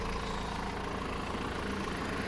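A BMW car engine idling after new parts were fitted, a steady, even mid-low hum with constant vibration and no revving, recorded close to the engine.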